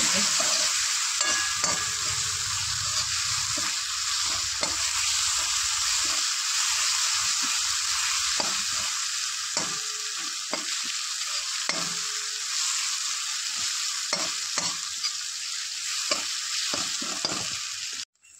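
Masala being stirred and fried in a pan until reddish, a steady sizzle underneath with repeated scraping strokes of a spoon at close range, no voices.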